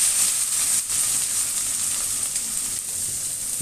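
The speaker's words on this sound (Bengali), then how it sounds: "সুন্দর করে এটাকে ভাজা ভাজা করে নেব।" Red spinach frying in a hot pan, a continuous close sizzle with soft shifts as it is moved about, no voices.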